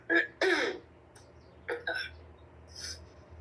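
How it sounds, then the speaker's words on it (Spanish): A man clears his throat and coughs several times at close range, short harsh bursts spaced out over a faint room hum, with no talk during them. "Me van a disculpar porque voy a toser unas cuantas veces"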